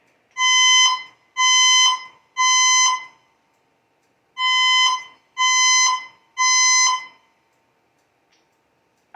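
A building fire alarm sounds during a test, blaring loud harmonic tones in two groups of three evenly spaced blasts, separated by a short pause, with no voices.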